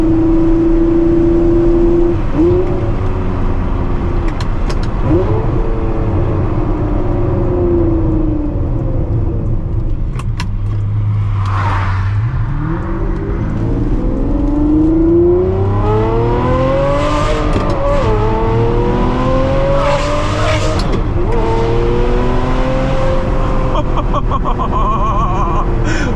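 Ferrari 599 engine revs through an aftermarket exhaust, loud and close, a deep rumbling idle rising into repeated climbing, sweeping revs that grow harsher and louder, with no talk over it.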